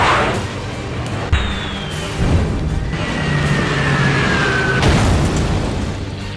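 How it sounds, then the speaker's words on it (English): Explosions from bombs dropped in a war film scene: low booming blasts with a whistling descending tone, under a continuous rumble and some neighing horses, no clear speech. "Bombs away. Repeat. Bombs away."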